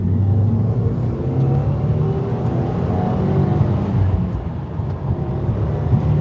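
Steady engine drone from a white 2020 Subaru WRX in a salvage-yard parking lot, a continuous loud rumble with slight swells in pitch, no voices over it.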